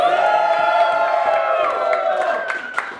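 A crowd at a rap battle in Medicine Hat cheers, whoops and claps loudly. Sustained yelling fills the room and sharp claps pop out near the end.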